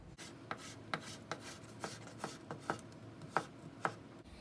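A knife chops carrots into thin julienne strips on a cutting board, giving a steady run of about nine crisp, close taps with no talk.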